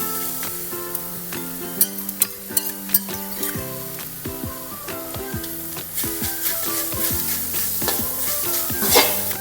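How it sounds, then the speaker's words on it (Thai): Pork belly stir-fried with herb seasoning paste in a pan, close steady sizzling with repeated scraping and stirring strokes of a utensil, and a bright tonal ringing underneath. "สูตรนี้เขาจะเอา เครื่องลงไปขัวใส่กับหมูสามชั้นแล้วค่ะ"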